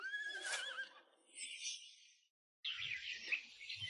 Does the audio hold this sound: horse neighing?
yes